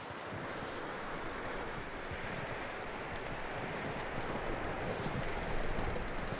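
Horse hooves clip-clop in the video game Red Dead Redemption 2, a steady walking rhythm of fairly faint hoofbeats over a soft outdoor wash of wind and rustling.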